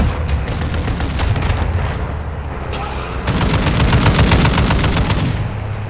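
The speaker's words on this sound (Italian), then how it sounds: "Ci lancio una granata." Grenade blast and gunfire in a military video game: dense, continuous rapid automatic fire throughout, with a heavy, louder booming swell past the midpoint that keeps rolling under the shooting.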